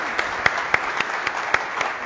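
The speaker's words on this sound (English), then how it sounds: "please, a round of applause for this great panel" Audience applauding a panel at a small-business and developer event, a short moderate round of clapping with a few sharper individual claps standing out, no talk over it.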